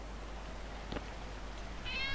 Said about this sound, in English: But here's our cat.